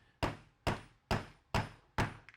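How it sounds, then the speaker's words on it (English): A hammer drives a metal insert into the corner of a wooden floater picture frame with five sharp, evenly spaced blows, close and loud, each one dying away quickly. "you're going to finish hammering the insert"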